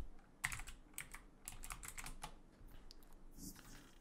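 A Google search being typed on a computer keyboard, heard as quiet, close, uneven clicking keystrokes in short bursts with small gaps between them, all alone.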